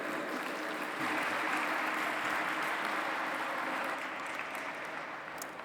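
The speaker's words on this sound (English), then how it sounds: "Please give a huge round of applause to this great gentleman." An audience at the G20 Interfaith Forum in Pune, India applauds to welcome a speaker, a soft, distant, steady patter of clapping that swells slightly and then tapers.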